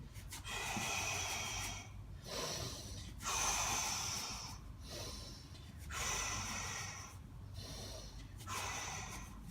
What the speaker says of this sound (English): as we mash, we go side to side and we exhale sharply